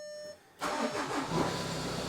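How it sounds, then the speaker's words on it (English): A VW Touran's engine cranks and catches after a brief quiet moment, then runs with a steady rumbling idle, close and fairly loud. "The car starts."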